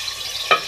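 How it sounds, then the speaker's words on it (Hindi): Two spoonfuls of ginger garlic paste frying in a pan for a beef and potato handi, a steady low sizzle with a brief, sharper hiss burst near the end. "मैं इसमें ऐड करूंगी अदरक लहसुन का पेस्ट ताकि भी साथ फ्राई हो जाए"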